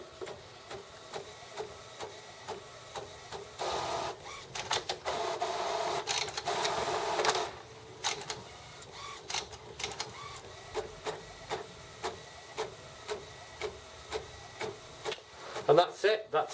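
An Epson XP-830 printer fitted with a continuous ink system makes a copy, whirring and scraping softly with a longer motor run, then a steady train of clicks and a louder clunk at the end.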